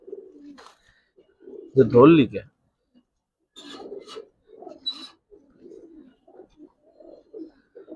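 Giribaz pigeons give a single close, throaty coo amid softer scattered bird calls and rustling, while someone speaks briefly nearby.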